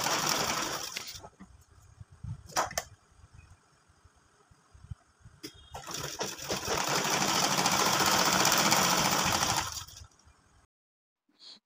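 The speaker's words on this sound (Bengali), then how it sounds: "তো শোল্ডারের এখানে ডাবল সেলাই করে নিব।" A sewing machine double-stitches the shoulder seam of a baby girl's frock in bursts, with short pauses between runs and a longer steady stretch of running near the end, then silence.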